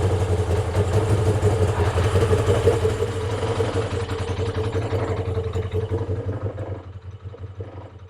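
A motorcycle engine idling during winterising after fuel stabiliser has been added, a steady low rumble with a mechanical clatter, loud and close, easing slightly toward the end, with no talking.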